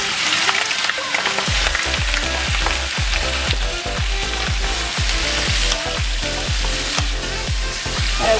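Chunks of beef for stew sizzle loudly in an Instant Pot on its saute setting, a dense continuous crackle over a regular low thumping beat.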